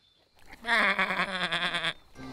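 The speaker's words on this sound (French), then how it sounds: "Voici les moutons." Cartoon sheep give a loud, wavering bleat lasting over a second, alone and up close, followed by a fainter second bleat at the end.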